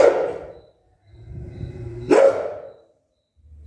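A dog barks at night outdoors, two loud, sharp bursts separated by a pause, with quieter low rumbling sounds in between.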